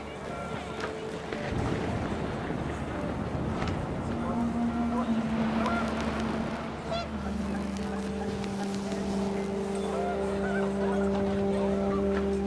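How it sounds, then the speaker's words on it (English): Panicked geese honk repeatedly in the game What Remains of Edith Finch, loud calls over wind and a low ambient bed, with a narrator talking over much of the scene. "panicked geese appeared and quickly went"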